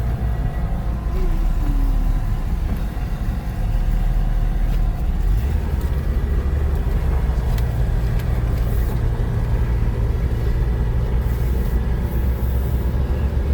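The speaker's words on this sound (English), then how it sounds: "It's got about 45 or 50 in an idle, so you can tell it's a good strong engine." A 1964 Ford Mustang coupe with a 289 V8 four-barrel engine idles with a steady, loud, low rumble that holds evenly throughout, with no talking.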